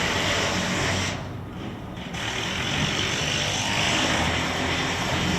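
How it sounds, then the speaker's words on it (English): F-35B fighter jets at a Royal Air Force airshow, a loud steady engine roar that briefly dips and swells again, broadband and continuous throughout. "Let's have a look at the F-35s."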